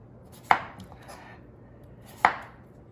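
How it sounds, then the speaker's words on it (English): A knife slicing peeled potatoes about a quarter inch thick on a cutting board, two crisp close chops spaced well apart with soft scraping between them and no voices. "then you have to slice them like a 1/4 inch thick"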